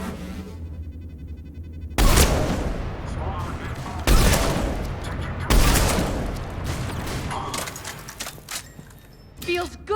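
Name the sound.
gunfire in video game Mass Effect 3 Omega DLC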